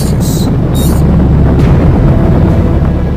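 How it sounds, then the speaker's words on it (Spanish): A loud, continuous low roar rumbles without pause, a heavy rocket engine blast with rough, crackling texture throughout. "Ruido de cohetes."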